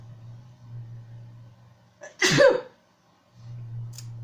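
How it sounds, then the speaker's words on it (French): A single sharp sneeze bursts out close by in a quiet room, over a low steady hum that drops away briefly afterward. "J'ai envie d'éternuer"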